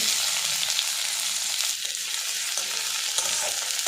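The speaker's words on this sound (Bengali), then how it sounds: "এবার এর মধ্যে দিয়ে দেবো পেঁয়াজ কুচি।" Chopped onion fries in mustard oil with a piece of cinnamon and whole cumin, making a loud, steady, close sizzle that continues without a break.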